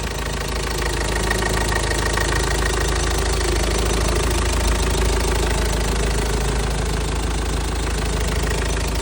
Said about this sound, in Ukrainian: Двигун, як чуєте, працює чудово